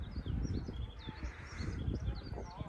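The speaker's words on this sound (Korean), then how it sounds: "새소리 너무 듣기 좋죠." Birds chirping and calling around a reservoir on Maisan mountain in spring, several short bright calls scattered through the clip over a steady outdoor rumble, with wind or rustle underneath.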